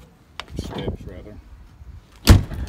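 Motorhome automatic entry steps retract with a brief motor whir that ends in a loud clunk, heard up close right after someone speaks.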